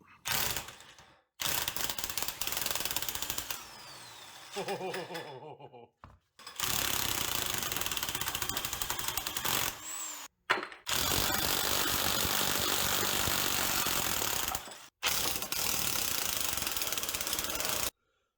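A homemade shredder spins up with a loud, harsh mechanical clatter and grinding ratchet-like rattle, broken into several bursts separated by short silences, with a quieter whining stretch midway.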